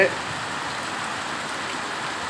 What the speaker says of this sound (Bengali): অন্ধকারে বৃষ্টি হয়ে পড়তেছে